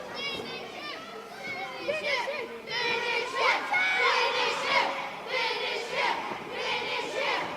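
Wrestling crowd at a 3XWrestling show roaring and shouting for the finish, a loud, dense mass of cheering voices with high, excited yells swelling and holding throughout.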